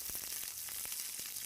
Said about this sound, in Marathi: तडतडतं जरा मिरच्या